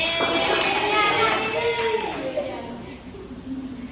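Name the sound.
applause for Yulianti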